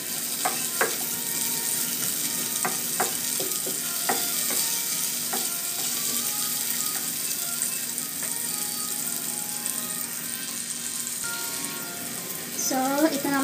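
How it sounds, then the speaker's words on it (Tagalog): Onions sautéing in a pan with chicken liver and vegetables, a steady broadband sizzle throughout with scattered utensil scrapes and clinks, fairly close and continuous, and a brief rising squeak near the end. "unahin natin yung sibuyas. Gisa-gisa lang."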